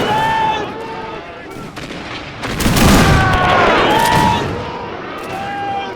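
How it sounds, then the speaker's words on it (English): Martini-Henry rifle volleys in a Zulu-war Total War mod battle at Isandlwana: a rolling burst of massed gunfire swells in the middle and fades, with steady tonal game music running throughout. "The Martini Henry rifles doing a wonderful job."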